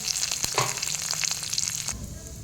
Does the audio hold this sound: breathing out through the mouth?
no